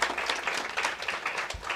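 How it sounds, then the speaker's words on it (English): Applause from an audience at a Carnatic music concert, steady clapping throughout with some faint murmuring beneath. "Vidwan Thanjavur Kumar, a round of applause for him"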